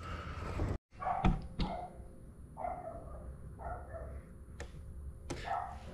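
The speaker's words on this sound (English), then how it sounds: "other than the dog barking" A dog barks in short bursts beside a 1980 Camaro being worked on, the barks moderately close and repeated over a steady background hum, with a couple of sharp knocks early on.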